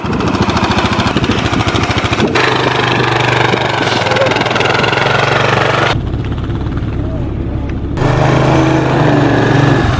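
A 50-year-old vintage twin-track snowmobile engine runs loud and close, rattling and roaring steadily with shifts in pitch and brief drops, while people talk over it.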